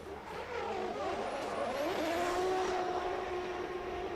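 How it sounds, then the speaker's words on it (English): A drift car screams through a qualifying run at an international drift championship in Oman, its engine note rising and holding in a steady high-revving wail, heard from a distance over the crowd noise. "I really hope the sound of this car comes across on the live stream,"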